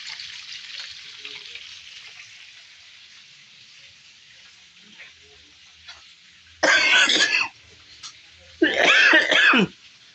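Two harsh coughs, loud and close, breaking a steady hiss of background noise after a long quiet stretch.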